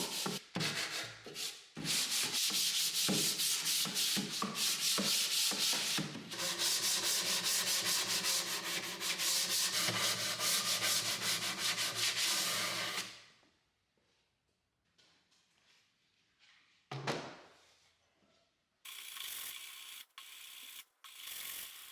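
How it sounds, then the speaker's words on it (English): Sandpaper rubs rapidly back and forth on a wooden cabinet, loud and close, continuing for several seconds before stopping, then resuming briefly in short strokes. "I just give the unit a light sand."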